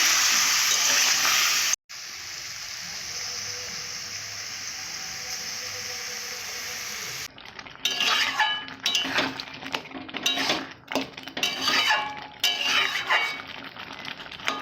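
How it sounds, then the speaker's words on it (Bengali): Tomato sauce sizzles in a pan, a steady hiss at first, then louder uneven scraping and clattering stirring strokes, close by. "এইভাবে নেড়ে নেবো"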